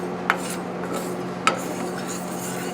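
Sesame seeds toasting in a dry pan with no oil, stirred with a utensil that gives a soft continuous scraping rattle, broken by two sharp metallic clinks against the pan, under a steady low hum.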